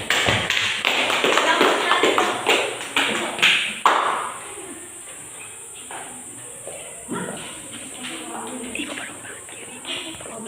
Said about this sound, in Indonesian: Silakan berikan aplaus kepada kelompok 1.